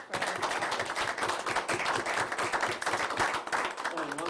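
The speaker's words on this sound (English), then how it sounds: "Let's give them a round of applause." An audience at a school board meeting claps in a steady, dense patter for about four seconds, fairly close and even, with some voices mixed in.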